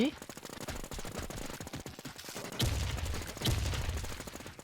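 Gunfire in an online shooting game, a steady rattle of rapid shots at low to moderate level with two louder bursts near the end, under excited Thai chatter from players.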